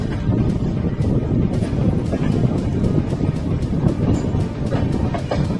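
A stationary train at Lucknow station in the evening, with a steady dense low rumble of idling carriages and platform noise, faint scattered clicks and rattles throughout, no clear speech.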